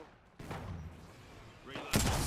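Gunfire crackles in a shooter video game, bursts of shots and booms arriving in clusters at moderate distance, with a voice calling out in the background.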